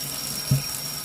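Tap water running into a kitchen sink while cilantro is rinsed, a steady close hiss and splash with one brief louder knock partway through.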